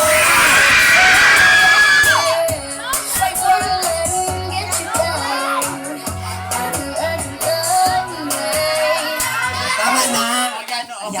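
Students at San Andres National High School shout, scream and cheer loudly for their group during a showdown, a dense crowd roar with yells and whoops throughout.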